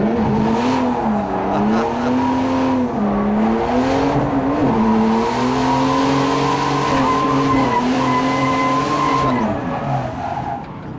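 A drifting car brakes hard and spins, its tires skidding in a long continuous squeal that bends up and down in pitch over steady engine roar, loud and close throughout with no talk.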